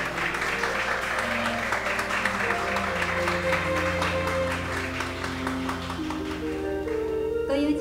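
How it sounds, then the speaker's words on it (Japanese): Guests at a mock wedding ceremony at the Nagoya Garden Palace clap together, a moderate steady patter lasting several seconds over sustained background music. "大きな拍手を皆様お願いいたします。"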